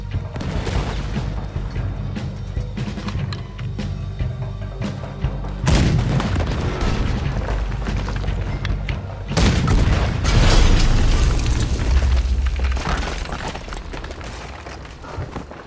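Ship cannons fire in Red Dead Redemption 2, with several heavy, booming blasts and crashing impacts over a loud, continuous rumble of battle noise.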